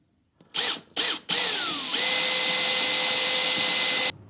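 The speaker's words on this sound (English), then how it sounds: "We drilled a hole in the wall," A power drill bores a hole into a bathroom wall while a large glass shower wall is being installed: a few short revving bursts, then one long steady high-pitched whine that cuts off abruptly, loud and close.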